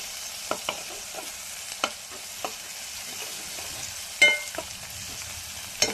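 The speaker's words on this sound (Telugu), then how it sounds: "ఉల్లిపాయ ముక్కలు కూడా వేగుతున్నాయి" Chopped onions and green chilies fry in a pan with a soft, steady sizzle, broken by a series of sharp spatula taps and scrapes at irregular intervals, one louder clack near the end.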